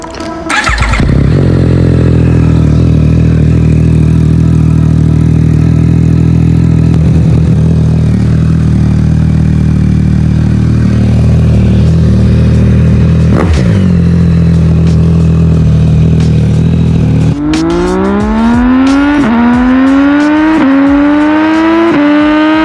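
Yamaha MT-09 SP motorcycle with a Yoshimura AT2 exhaust cold-starting: a sharp crank and catch into a loud, steady, deep idle held close by, a brief blip mid-way, then a string of rising revs near the end.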